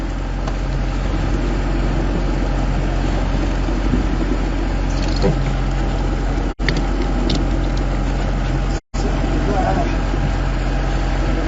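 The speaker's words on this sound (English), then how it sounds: "we're just going to use the engine instead." A sailboat's inboard engine runs at a steady idle after the sail is hauled in while leaving Falmouth, a loud, close, continuous low drone that barely changes throughout.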